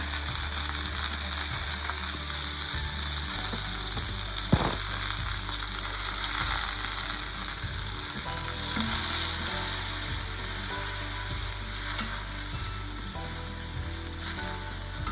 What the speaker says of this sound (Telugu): తర్వాత ఓట్స్ కూడా వేసేసుకుంటున్నానండి. ఇది కూడా కొంచెం ఫ్రై అయ్యేదాకా కొంచెం వేయించుకోండి.